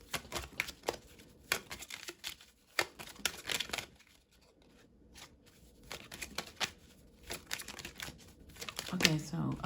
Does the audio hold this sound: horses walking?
no